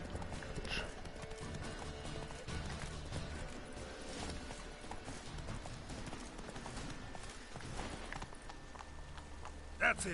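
Roach the horse galloping in The Witcher 3, a quiet, steady clip-clop of hooves at a brisk rhythm that carries on throughout, with a brief louder thump near the end.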